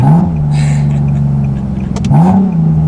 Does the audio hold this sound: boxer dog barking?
no